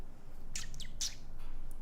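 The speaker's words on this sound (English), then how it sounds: "Now appreciate the birds." Birds chirp in the video game Final Fantasy XVI, a few short, bright tweets in quick succession, moderately faint over a steady ambient background.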